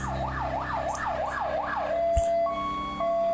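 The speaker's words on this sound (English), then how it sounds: "Italian ambulance." An Italian ambulance siren in a video game at an accident scene: a rapid wailing sweep repeats about five times, then settles into a steady two-tone hi-lo pattern, loud and close, with a brief thump partway through.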